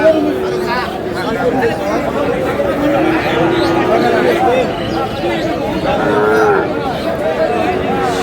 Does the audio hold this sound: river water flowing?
no